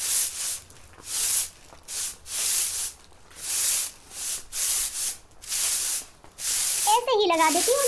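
Rhythmic bristle strokes of a broom sweeping a floor in an animated cartoon, about a dozen brisk swishes in steady succession, loud and close, with a voice starting up at the end.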